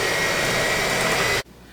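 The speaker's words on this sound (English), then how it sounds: "I'm just going to take this blender and cream that together." A handheld electric blender or mixer creams room-temperature butter with dark brown sugar for carrot muffins, giving a loud, steady whirring drone that runs for over a second and then cuts off abruptly.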